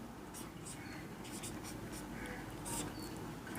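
Pen writing out a maths solution by hand, a soft continuous scratching and tapping of strokes on paper, faint and close, with no talking.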